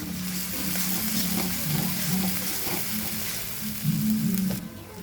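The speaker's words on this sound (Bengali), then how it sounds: "এবার এটা লাল করে ভেজে নিতে হবে।" Chopped onions with a pinch of salt fry in hot oil in a pan, a steady close sizzle with occasional stirring scrapes, no talking.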